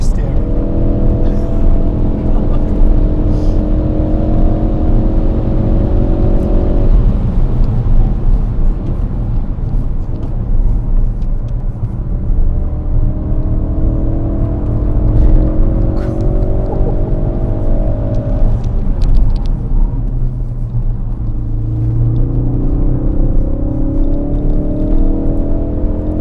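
A Ford Focus RS lapping the Goodwood circuit, its engine droning loudly and rising in pitch through the gears, repeatedly dropping on upshifts and climbing again, heard from inside the car with someone talking over it.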